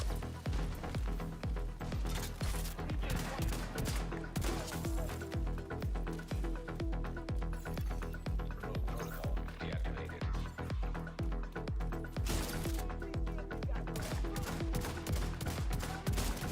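Sniper turret gunfire in the shooter video game The Division 2, a long stretch of rapid, loud shots and fusillades over steady combat noise, with a voice talking at moments between bursts.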